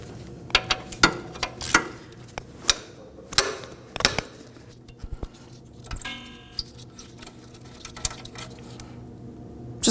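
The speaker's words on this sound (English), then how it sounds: "The next thing I'm going to do is focus on removing my caliper bracket mounting bolts." Mounting bolts on the caliper bracket of a 2013-2019 Nissan Sentra are worked loose with a ratchet, a scattered series of sharp metallic clicks and knocks close by, with quiet gaps between them.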